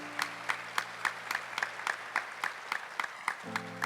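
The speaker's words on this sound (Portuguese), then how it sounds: "Vamos aplaudir isso, gente?" A congregation at a Catholic priest's service claps in a steady, brisk unison rhythm, a dozen or so sharp beats close together, with a sustained tone entering near the end.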